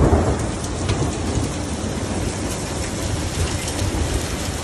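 Steady rain falls outdoors in the wake of a heavy hailstorm, a dense, even hiss with a low rumble, close and continuous with no voices.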